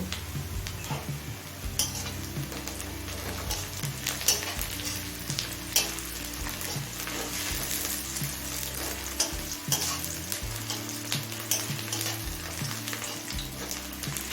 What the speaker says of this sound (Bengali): গোটা গরম মশলা দিয়ে আরও মিনিট দুই ভেজে নিয়েছি